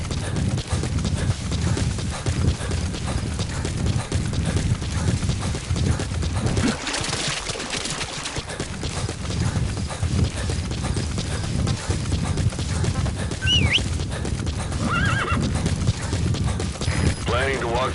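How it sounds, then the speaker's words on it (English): Hooves of a horse gallop in steady clip-clop rhythm through the Metal Gear Solid 5 video game, loud and continuous with a brief dip midway, over a low rumbling game soundscape. "Use your horse."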